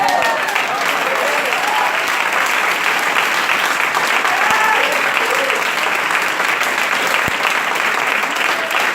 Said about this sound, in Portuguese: É uma salva de palmas.